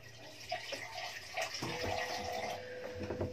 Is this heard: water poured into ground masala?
yes